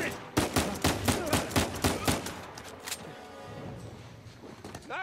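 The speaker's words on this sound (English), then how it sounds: "Nice shooting!" Gunfire in the video game Uncharted 4, a rapid rhythmic string of about nine sharp loud shots, then a quieter tail of ambient game sound with a final faint report.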